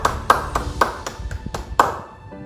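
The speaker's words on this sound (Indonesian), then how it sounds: "Mari kita berikan tepukan yang gemuruh" A few hands clap at a Sunday church service in Kuching, giving a sparse, uneven series of sharp ringing claps, around eight in all, before tapering off.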